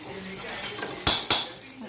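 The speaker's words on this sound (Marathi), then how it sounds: "ह्याला फिरवून घ्यायचं तर बघा मस्त असं फ्राय झालं आहे" A utensil scrapes and knocks twice against a pan as a cucumber and tomato vegetable dish is stirred over low heat, with a faint sizzle underneath, brief and close.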